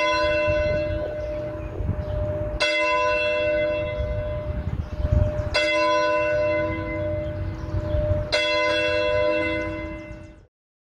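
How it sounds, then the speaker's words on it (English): Dixboro Church bell rung for a Sunday morning worship service, loud and alone, with three strong strikes about three seconds apart, each ringing out in a long sustained hum that fades before the next. "let us begin worship with the ringing of our church bell"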